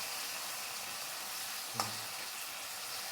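Tomato paste with red chilli and garlic powder frying and being stirred in a pan for a Bengali okra and mustard dish, a steady close sizzle throughout with one brief scrape of the spoon partway.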